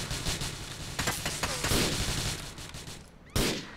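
Rapid gunfire in the video game Grand Theft Auto IV, a dense, sustained volley of shots filling the whole stretch, with a brief lull near the end before a fresh loud burst.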